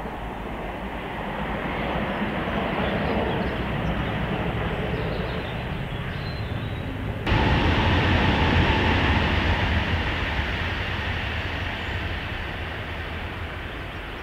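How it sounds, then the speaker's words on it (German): ICE high-speed train passing on a high-speed line at night, a broad rushing roar that builds, surges louder midway and then slowly fades, with no one speaking. "Es war der erste ICE des Tages, der ICE 827 von Köln nach München."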